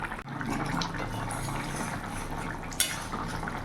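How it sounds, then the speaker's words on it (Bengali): Katla fish curry with ridge gourd and potatoes simmers in a pot, bubbling steadily at close range, broken by a few light clinks of a utensil against the pot. "আর কিছুক্ষণ ফুটে নোক, তাহলেই নামিয়ে দেবো।"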